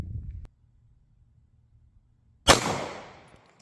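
A single sharp, loud gunshot from a .30 Super Carry pistol fired into a ballistic test block, ringing out after a short quiet stretch and decaying over about a second.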